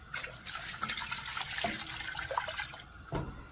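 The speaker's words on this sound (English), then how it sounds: "we want to put in 4 cups of water." Four cups of tap water poured into a pot for beef noodles, a steady close splashing gush lasting a few seconds with no talking.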